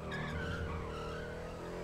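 A fast car in GTA 5 skids with a loud, sustained tire squeal over engine roar, close and continuous, with no talking.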